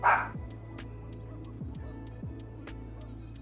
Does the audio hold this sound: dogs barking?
yes